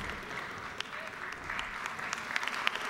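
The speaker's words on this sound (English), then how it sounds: "give him a round of applause" Steady applause fills the Georgia House chamber, a room of legislators and guests clapping together at moderate distance, with a few sharper claps standing out over the continuous patter for the full stretch.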